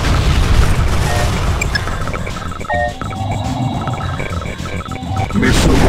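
Loud, continuous rumbling booms and blasts from a missile launch and explosion in the Tiberian Sun strategy game, dense and sustained throughout with brief tonal blips on top.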